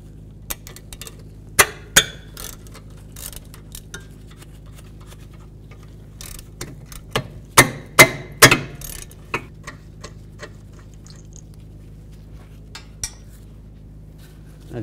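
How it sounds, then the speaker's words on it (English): Socket and ratchet removing the rear brake caliper bolts on a 2008-2013 Cadillac CTS with a 14 mm socket, giving sparse sharp metallic clicks and clanks at irregular intervals, some close and fairly loud, with a few faint ticks between. "Now I'm gonna take the caliper bolts out, use a 14 millimeter socket."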